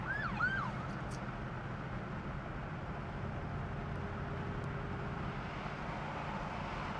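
A police siren wails in a few quick rising-and-falling sweeps at the start, heard from inside a moving 1966 Chevrolet Nova with a 283 V8. It then fades into a steady engine and road drone.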